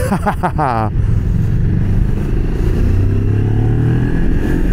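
A Thrike Xcape sport motorcycle with ABS and traction control accelerates hard on a road, its engine note a steady, loud drone that follows a brief moment of speech at the start.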